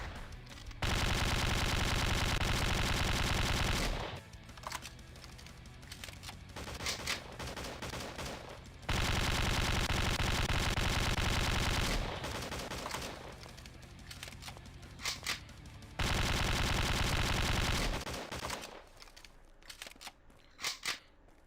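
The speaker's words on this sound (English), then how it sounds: "just pull out a gun and start shooting" Shotgun gunfire in Slendytubbies 3 during Custard Facility survival, heard as three long, loud bursts of repeated blasts separated by quieter gaps, with no talk.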